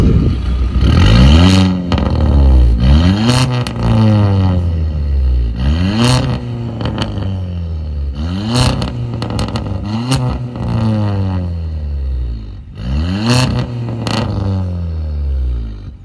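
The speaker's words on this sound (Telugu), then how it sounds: "స్మాల్ స్పిన్ వేసేసి ఎలా ఉంది ఎగ్జాస్ట్ నోట్ అంతా క్యాప్చర్ చేద్దాం." A Stage 2 tuned VW Polo GT TSI revs repeatedly and aggressively, its exhaust note rising and falling in several loud, close bursts with crackles between pulls.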